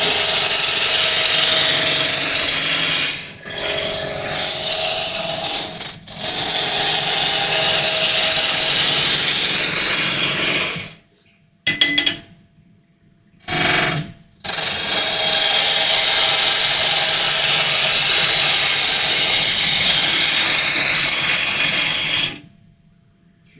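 A gouge cuts wood on a lathe, turning a wooden apple, with a loud, continuous scraping hiss. The cutting stops several times, with short gaps of near silence as the tool lifts off and comes back on.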